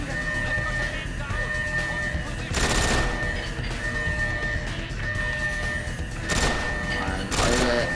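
Gunfire bursts out in Goldeneye 007 Reloaded, with several sharp volleys of shots cutting through ongoing game noise while people talk over the action.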